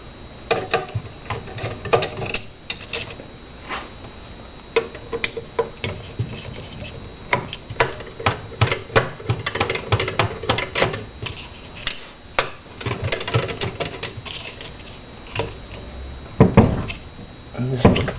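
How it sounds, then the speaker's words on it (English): Bolts being loosened with a wrench on a post at the wet end of a machine, giving irregular clicking, ticking metal taps and scrapes at close range across the whole stretch, some louder clanks near the end. "So we're going to loosen all four bolts."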